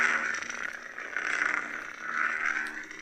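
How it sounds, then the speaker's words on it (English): A toy lightsaber's deep, crackling electric idle hum that pulses and swells in slow waves, buzzing and raw, close and fairly loud with no voices. "You can hear the crackle in the hum of the lightsaber."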